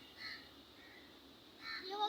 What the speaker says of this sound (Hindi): देखें कौवा बोल रहा है